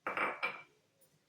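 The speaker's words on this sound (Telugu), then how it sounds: "పప్పులో టమోటా ముక్కలు వేసేస్తున్నాను." Tomato pieces drop into dal in a metal pot, giving a quick pair of soft clinks and clatters close by, followed by a fading ring and near silence.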